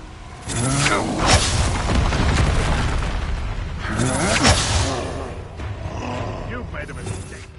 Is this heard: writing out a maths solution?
no